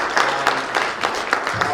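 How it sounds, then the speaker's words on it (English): Applause for panelists at an engineering, iron and steel industry conference, uneven clapping from a modest audience with distinct individual claps popping out, moderately loud and continuous. "A round of applause for our panelists."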